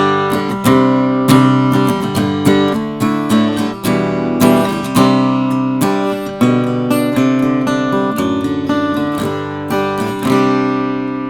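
An unplugged dreadnought acoustic guitar fitted with an LR Baggs AEG-1 pickup is strummed in a steady rhythm of bright, full chords, close and loud with no voice over it.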